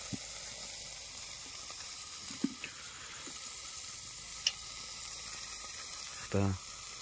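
Oil is drizzled over mutton curry simmering in a pan, giving a faint, steady sizzle with a few soft stirring clinks and a brief louder scrape near the end.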